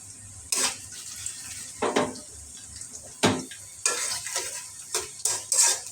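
Cinnamon pieces and bay leaves fry in a pot with a faint sizzle, broken by repeated scraping and clinking strokes of a spoon against the metal, close and irregular.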